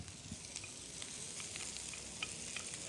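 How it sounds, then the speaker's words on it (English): Garlic, thinly sliced jalapeno chilies and chopped fresh cilantro fry in extra virgin olive oil with a steady, quiet sizzle and faint crackles, alone without voices. "we're going to fry garlic and thinly sliced jalapeno chilies and chopped fresh cilantro."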